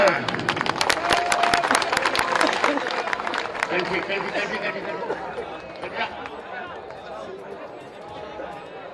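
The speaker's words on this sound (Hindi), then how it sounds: "तालियां" Applause and clapping from a crowd at a Maha Kumbh 2025 gathering in Prayagraj, Uttar Pradesh. It is dense and lively at first, then thins out over several seconds into a fading patter beneath crowd chatter.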